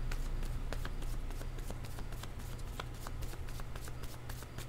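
Tarot cards being shuffled and drawn by hand, a steady run of crisp riffling and snapping card flicks over a constant low hum, close and fairly loud, with no talking.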